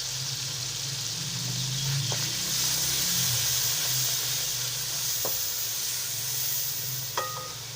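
Onions sizzle in a pan with tomatoes seasoned with salt, chilli and turmeric, giving a steady frying hiss with a low rumble and a few faint clinks from stirring.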